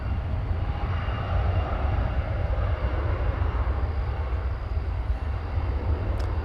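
Airliner departing DFW Airport on a flight to San Angelo, its jet engines a loud sustained low roar that stays heavy and even from start to finish, no voices present.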